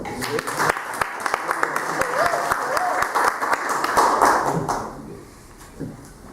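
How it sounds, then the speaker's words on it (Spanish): Audience at a vocational congress applauding, with scattered sharp claps over a murmur of voices and a brief vocal sound mid-way, the applause fading out near the end. "Yo creo que merece un aplauso, ¿no?"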